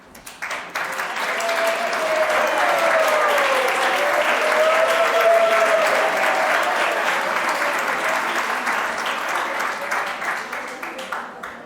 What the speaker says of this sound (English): Can you hear the applause